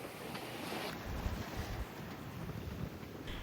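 Sailboat under way in gentle, shifting winds off Isla Natividad on a warm sunny day, with steady wind rush and water wash filling the scene continuously and no talk.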